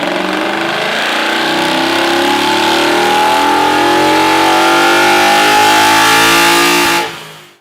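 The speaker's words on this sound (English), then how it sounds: "an S62 V8, the engine that's in this car, with a modified intake exhaust" BMW M5 S62 V8 engine with modified intake and exhaust revs loudly and steadily for about seven seconds, a rich rising and sustained roar with layered harmonics, then cuts off abruptly.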